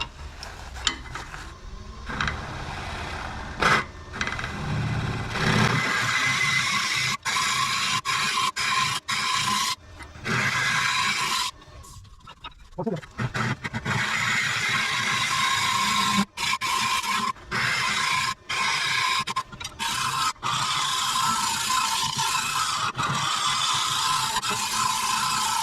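A maple burl bowl is hollowed out, likely on a lathe, with a rough, grinding cutting noise that runs in bursts broken by short pauses as the tool is repeatedly engaged and lifted.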